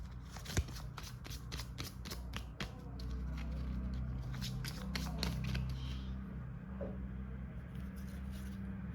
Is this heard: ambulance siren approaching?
no